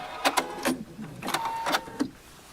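A sewing machine runs a back stitch to lock a seam on a mitered corner, a few short close bursts of motor whir and needle clatter with brief pauses between them.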